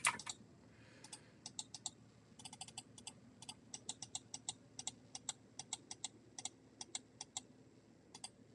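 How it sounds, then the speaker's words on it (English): A computer keyboard and mouse click close to the mic in quick, irregular bursts of sharp taps, with brief pauses between runs over a faint background hum. "I hope that I distanced my keyboard far enough to reduce the amount of sound you hear."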